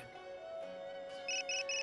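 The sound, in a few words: phone ringing in Tales of Xillia 2 video game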